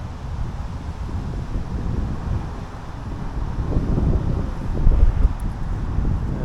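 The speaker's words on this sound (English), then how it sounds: "Boy, it's getting windy." Wind buffets the microphone of a Mavic 2 Pro drone in low, rumbling gusts that swell louder near the end, with no voices.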